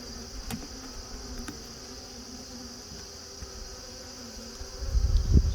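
Honeybees hum steadily in a small nuc hive opened for a late-season inspection, a continuous insect drone with faint handling noises and a louder rustle toward the end.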